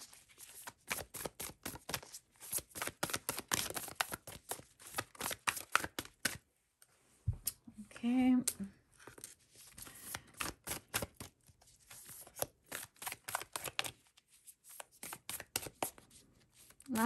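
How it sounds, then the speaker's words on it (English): Tarot cards are shuffled over and over, a rapid, close run of crisp flicking and riffling clicks in repeated bursts with brief pauses between them. "Lots of shuffling here because I just want to get the perfect card for you guys"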